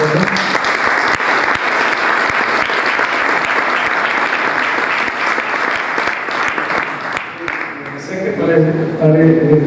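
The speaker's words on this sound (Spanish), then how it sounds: "Un aplauso" An academic audience applauds at a mathematics and computation award ceremony, a dense, loud, sustained wash of clapping with a voice speaking near the end.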